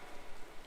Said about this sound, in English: It's raining at a very high pace rate.